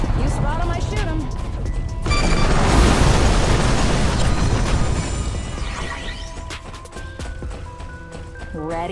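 Artillery blasts and explosions from the video game Heroes of Newerth, a loud rumbling boom swelling around two seconds into a dense, sustained roar that slowly fades, with scattered battle noises and game voices throughout.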